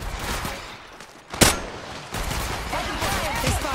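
Gunfire in the mobile battle royale Apex Legends Mobile, a steady stream of rapid shots with a sharp loud crack partway through, mixed with game effects and a faint voice underneath.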